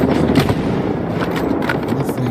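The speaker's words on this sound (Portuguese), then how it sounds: "Olha lá, sem silenciador, viu? São dois tiros." A rapid burst of gunfire crackles densely for a couple of seconds, loud and close, with little else audible.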